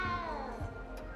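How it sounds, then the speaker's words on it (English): A cat meows in the video game Hogwarts Legacy, giving one drawn-out, close meow followed by softer trailing mews against faint background game ambience. "You don't need to be frightened, little cat."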